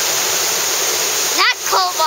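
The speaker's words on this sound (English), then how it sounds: "We're going to call this the Cold Waterfalls" Outdoor waterfall on a forest walk, a loud steady rushing hiss of falling water, briefly broken near the end as a voice speaks over it.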